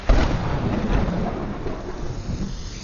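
Thunder rolls over steady rain in a movie scene, a broad rumbling wash with a brief louder crack at the start, continuous and moderately loud with no one talking.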